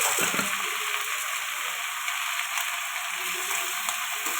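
Vegetables with fried shrimp sautéing in a pan for a potato and shrimp curry with Malabar spinach, a bright continuous sizzle heard close and steady, with no speech.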